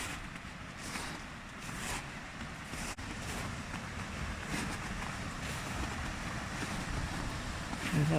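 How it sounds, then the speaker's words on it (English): High river water rushes in a steady broadband roar, a constant wash of flowing sound from nearby with faint bursts of turbulence and no clear talking. "Oh my, the river's high."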